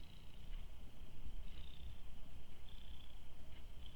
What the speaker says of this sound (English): She's purring. I don't know if you can hear her.